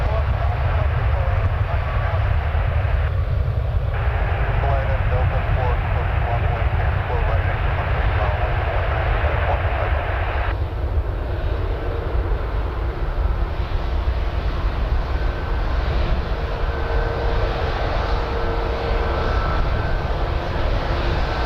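A Royal Air Maroc Boeing Dreamliner jet rumbles steadily at Toronto Pearson airport at night, a loud continuous engine roar heard from a nearby spotting location throughout, with someone speaking now and then.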